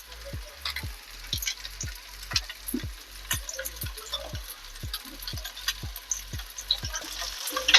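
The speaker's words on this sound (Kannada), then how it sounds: "ಇವಾಗ ಈ ಥರ 5 ನಿಮಿಷ ಫ್ರೈ ಮಾಡ್ಕೊಳ್ಳೋಣ." Fish shallow-frying in a little oil in a pan, a steady soft sizzle and crackle with a regular series of low thumps running underneath, close up and without talk.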